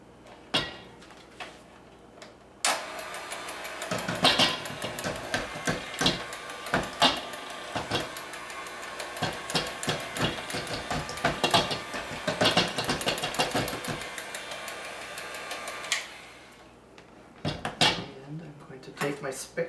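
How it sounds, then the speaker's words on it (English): A stand mixer beats bread dough with dough hooks, its motor kicking in abruptly with a loud whir and irregular knocking clunks before cutting off again, close up. "on our mixer here, my mother has dough hooks, and what we're going to start doing is beating it with these hooks until it's very smooth"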